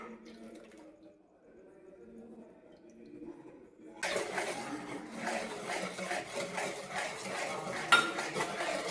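Banana cake batter being mixed in a bowl: quiet scraping at first, then from midway a louder run of spoon-against-bowl scraping and clinks, close up, with no talk.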